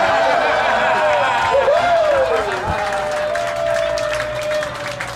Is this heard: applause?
yes